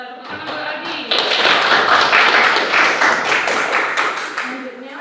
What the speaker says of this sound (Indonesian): Tepuk tangan buat Aldi.